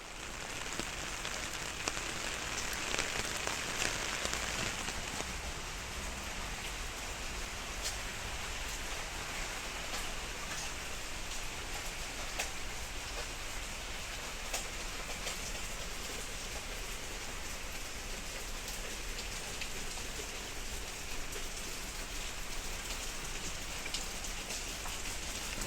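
Steady rain falls and patters densely across surfaces, heard from inside a small tunnel while walking, as a continuous soft hiss with no talking.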